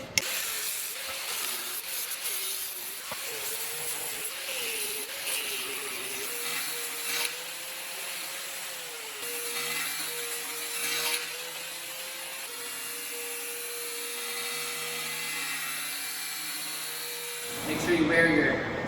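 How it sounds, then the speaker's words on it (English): A power cutting tool grinds steadily through a chunk of rusted truck body metal during rust repair, a continuous whining cut lasting many seconds before it winds down, close and prominent with a brief clatter at the end. "We're just gonna cut a chunk out of here, out of the top."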